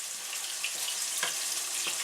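Chopped steak patties frying in a pan, a steady close sizzle and crackle with a few sharper pops, continuous with no talking.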